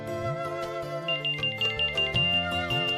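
A telephone rings within a dense bed of dramatic background music, a thin high repeating ring tone surfacing midway over the swelling score, with no talk.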